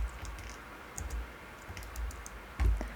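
Sparse computer keyboard clicks and taps, a few scattered presses with quiet gaps between them, close and fairly soft, while working in Blender 3D software.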